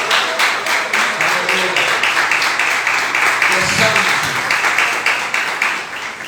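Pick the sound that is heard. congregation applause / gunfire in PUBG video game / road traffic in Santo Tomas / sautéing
congregation applause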